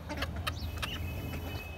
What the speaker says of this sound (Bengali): মুরগি চলে আসছে আমাদের বাবুনিয়া।